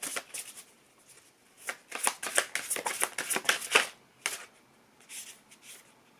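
Tarot cards are shuffled and drawn by hand, giving close, crisp riffling bursts in clustered runs with short pauses between them and no talking.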